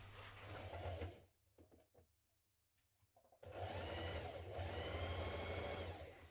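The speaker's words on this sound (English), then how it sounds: "we're going to stitch down to the large circular marking here" A sewing machine stitches a jean jacket sleeve seam in two close, loud, steady runs of rapid whirring, with a quiet pause between them filled with small clicks and fabric handling.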